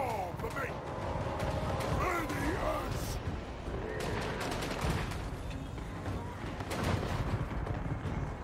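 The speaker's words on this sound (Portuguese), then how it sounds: "Tá tomando bastante tiro de canhão se não vier pra cima." Cannon fire during a Total War: Warhammer 3 battle, repeated booming shots and crashing impacts amid a dense, continuous din of combat, with a voice speaking over parts of it.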